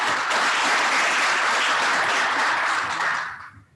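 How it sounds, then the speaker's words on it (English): An audience at a chamber of commerce breakfast gives a loud, dense round of applause, many hands clapping steadily at close range before the sound quickly fades out. "Give them a round of applause."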